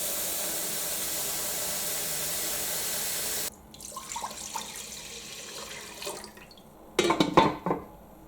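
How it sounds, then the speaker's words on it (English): Water pours steadily into a cooking pot for a risotto for about three and a half seconds, then stops, followed by quieter clinks and a brief louder splash near the end. "The first thing I'm going to do is add water to my pot, and I'm going to be using 7 deciliters of water."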